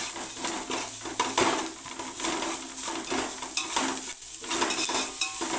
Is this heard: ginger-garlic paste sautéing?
yes